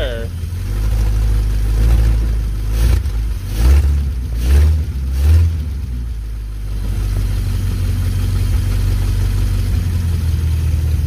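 1951 Pontiac Chieftain engine idling with a broken-off exhaust, revved several times in quick bursts that rise and fall, then settling back to a steady low rumble up close, with people talking nearby.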